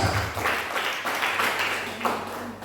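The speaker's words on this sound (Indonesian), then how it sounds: "Tepuk tangan. Yang keras." A church congregation applauds during a sermon, a dense, continuous wash of clapping heard at moderate distance in a reverberant hall.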